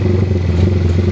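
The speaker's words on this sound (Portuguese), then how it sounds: "Apesar que eu não tô exigindo muito aqui da moto" A prototype motorcycle engine idles steadily at low revs on a busy street, a loud continuous rumbling drone with a rattling texture and no speech.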